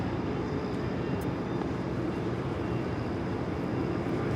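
Alaska Horizon passenger plane in retro livery arriving at Los Angeles LAX, a steady continuous engine roar that stays loud and even throughout with no talk.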